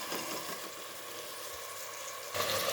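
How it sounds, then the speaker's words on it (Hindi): Mutton sizzles steadily in oil over low heat, a soft continuous crackle and hiss, slightly louder near the end. "और इसे हमने 1 से 2 मिनट लो आंच पे हमने फ्राई करना है"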